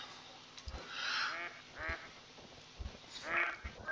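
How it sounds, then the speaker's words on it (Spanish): Ducks in a New Zealand setting of a hunting video game give several nasal quacks in short bursts, moderately close, over a quiet outdoor ambience. "patos"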